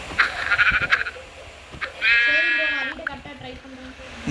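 Goats bleat in loud, wavering calls, one long cry in the middle followed by shorter bleats, over background outdoor noise while people speak nearby.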